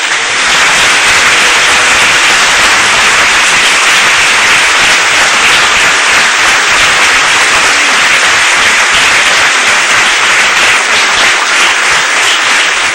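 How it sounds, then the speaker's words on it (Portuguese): A church congregation claps together in sustained, dense applause that fills the whole stretch at steady loudness, with no voices rising above it. "Vamos saudar o Criador com mais uma linda salva de palmas?"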